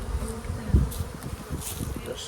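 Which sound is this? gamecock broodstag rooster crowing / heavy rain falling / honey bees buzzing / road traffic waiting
honey bees buzzing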